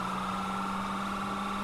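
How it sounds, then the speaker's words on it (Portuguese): A motorcycle engine in a roleplay video game gives a steady, even mid-pitched hum with no voices and no clear rise in loudness. "Pior que tá vindo a moto de novo"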